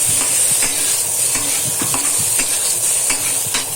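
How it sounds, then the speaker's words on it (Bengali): Duck eggs and potatoes fry in a pan with a loud, steady sizzle, while a spatula scrapes and stirs in regular strokes roughly every half second, close up and with no talking. "তারপরে ভালো করে ডিমগুলোকে ভেজে নিতে হবে, আলুগুলোকেও ভালো করে ভেজে নিতে হবে।"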